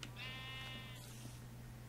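A sheep in Minecraft gives one clear, wavering bleat lasting under a second, then falls away to a quiet, steady background hum with no talk.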